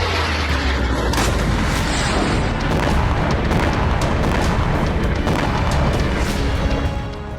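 Explosions from a Ukrainian missile strike near Kherson make a loud, continuous roar. Repeated sharp booms and cracks break through the dense rumble.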